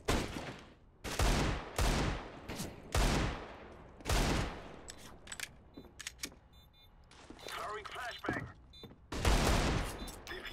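Bursts of rapid gunfire in CS:GO during a tournament match, several loud volleys separated by short pauses, with quieter clicks and shots in between.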